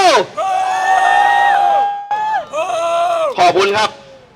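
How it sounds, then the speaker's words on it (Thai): A crowd at a Thai political rally boos and shouts together, loud, close, drawn-out massed voices that rise, break off briefly, then surge again. "เสียงที่โห่ร้องขึ้นมาบนนี้"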